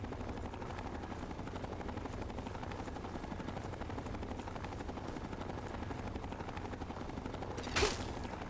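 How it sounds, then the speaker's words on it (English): A helicopter's steady rotor drone fills a Fallout 3 game scene, continuous and moderately loud, with a single sharp burst near the end. "Get to the chopper?"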